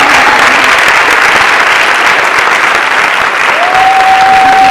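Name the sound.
audience applause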